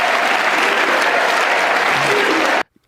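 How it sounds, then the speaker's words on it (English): Live audience bursts into loud, sustained applause and cheering, dense and close, cutting off abruptly into near silence after about two and a half seconds. "they start cheering USA"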